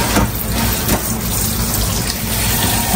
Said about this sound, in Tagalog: Lagyan po natin ng tubig, ibabad po natin sa tubig.